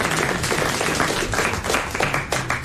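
Daniel applauds on a 1994 French television game show set, brisk dense clapping close and continuous for a couple of seconds, with crowd noise mixed in.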